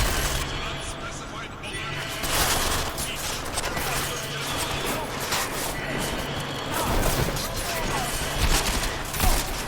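Rapid bursts of gunfire from the video game Deus Ex: Mankind Divided, played on Xbox Series X, crackle in dense volleys with clanks and impacts, loud and continuous over about ten seconds, with voices talking underneath.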